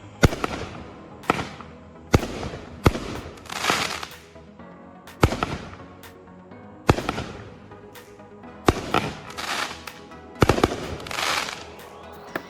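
Assorted fireworks from a consumer box go off in a rapid string of about a dozen sharp bangs, several trailing into crackling sizzles, loud and nearby with brief pauses between bursts.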